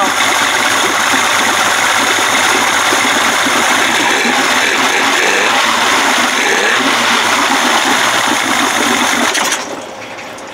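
A 1992 Johnson 60 hp outboard motor runs steadily as it warms up, giving a loud, constant engine drone mixed with rushing, splashing water noise. It drops off slightly near the end.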